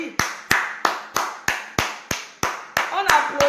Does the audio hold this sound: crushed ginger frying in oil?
no